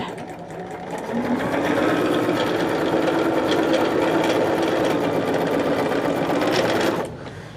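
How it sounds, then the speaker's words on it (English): Sewing machine stitching quilt fabric for a quilt block, a steady close mechanical whirring run of about six seconds that starts and stops abruptly, with no talk over it. "I'm just flipping my fabric around to make it just easier for me to sew it"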